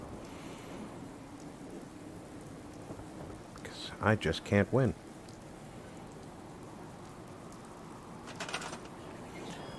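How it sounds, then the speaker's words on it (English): Steady rain and a distant thunderstorm in the video game Fallout 4 hiss quietly in the background, with occasional low rumbles, while someone speaks briefly over it. "And wake up for a stormy day."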